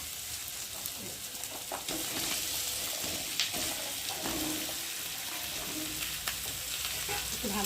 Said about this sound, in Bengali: তেলের মধ্যে ভেজে নেব।